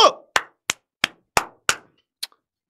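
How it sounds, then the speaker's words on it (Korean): An audience at a Korean political gathering claps seven sharp, crisp beats in a steady rhythm, then pauses before a final clap. No voices are heard. "박수!"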